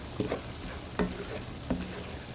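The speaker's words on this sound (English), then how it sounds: "I'm just gonna stir that together" A spoon stirring imam bayildi vegetables with parsley and mint in a pot: three separate scraping, squelchy strokes about a second apart, close and moderately loud, with a soft background hiss between them.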